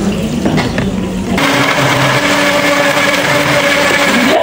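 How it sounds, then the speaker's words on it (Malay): A kitchen blender grinds red chili, onion, candlenut, garlic and ginger into a paste, its motor whirring loud and steady with a harsh, buzzing high-pitched tone that settles into a continuous drone. "kita nak blend ni. Lada merah, bawang besar, buah keras, bawang putih dan halia."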